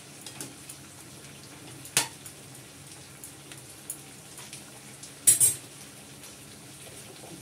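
Sour mango chutney bubbles in a pot, a soft steady simmer broken by a few sharp clinks of a spoon or lid against metal, faint and close with no talking.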